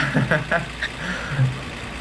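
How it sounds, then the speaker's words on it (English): A low, steady car engine idle in the video game My Summer Car rumbles beneath people talking over it. "Oh, this engine is real loud."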